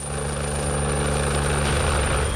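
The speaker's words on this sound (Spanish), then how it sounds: "Llegó el helicóptero a recogernos." A helicopter arrives to pick up a news crew on a hilltop in Ecuador, its steady loud rotor and engine roar filling the scene with a constant drone and a high whine, close and uninterrupted, with no talking.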